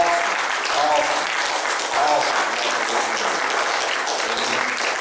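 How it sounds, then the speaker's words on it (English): A church audience claps steadily for several seconds, a dense patter of hand claps with some voices mixed in underneath. "I just want us just to give them a hand clap for this."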